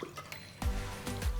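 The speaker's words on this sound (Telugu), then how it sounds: "ఒక వెడల్పాంటి సాస్ పాన్లో సరిపడ నీళ్లు పోసి" Water is poured into a wide saucepan, faint splashing and trickling in a couple of bursts, close by with no talk.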